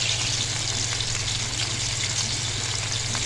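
Fish pieces fry in mustard oil for a fish curry, giving a steady, close, even sizzle with a low bubbling hum underneath and no talking.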